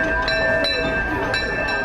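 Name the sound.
Disneyland Railroad train ride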